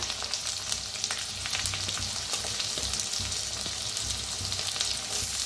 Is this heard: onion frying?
yes